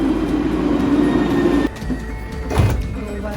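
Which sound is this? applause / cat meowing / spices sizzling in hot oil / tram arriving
tram arriving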